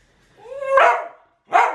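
A dog barks twice indoors, close and loud, the first bark rising from a whine, the second a short sharp woof after a brief pause.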